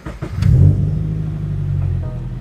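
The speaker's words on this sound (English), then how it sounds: "how I used to start my car" A Hyundai Genesis with an aftermarket catback exhaust and long tube headers fires up close by, a quick starter burst settling into a deep, loud rumbling idle with a slight rev.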